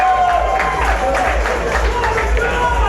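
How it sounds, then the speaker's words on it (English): A crowd cheers and claps at Universal Orlando near the Supercharged attraction, making a steady, mid-distance roar of voices and applause with some speech mixed in. "People cheering for Supercharged?"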